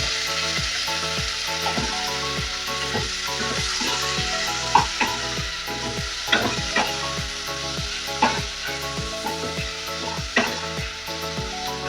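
Chopped tomato drops into a hot pan of frying Punjabi-style chicken masala with chilli, setting off a steady, close sizzle broken by repeated sharp stirring scrapes, with no talk.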